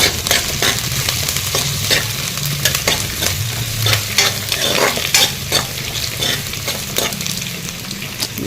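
Onions fry in a pan with a steady, close sizzle, broken by regular scraping and stirring strokes of a spatula against the pan; no one speaks.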